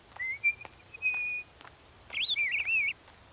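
A cartoon character whistles to imitate birds: a long rising-and-level whistle, a pause, then a warbling, wavering run of notes, with faint clicks between, close and fairly quiet.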